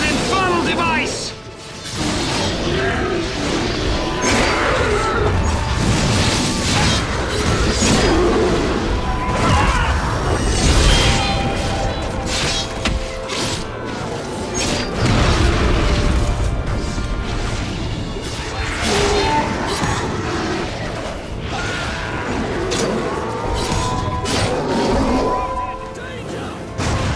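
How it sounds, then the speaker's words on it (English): Saruman's fire machine spews flames across a battlefield in the Lord of the Rings: Conquest video game. The roar is dense and continuous, mixed with crashing impacts and mechanical clatter, and stays loud throughout. "Saruman's fire machine spews flames of death!"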